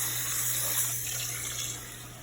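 Seasoned, slightly greasy water from cooking meat poured into a soup pot, a steady close splashing stream running throughout without a break, no voices.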